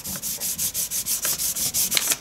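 A ribbed plastic bag is rubbed and crinkled up close, giving a steady run of rhythmic, scratchy rustling pulses, about six a second, with no voices.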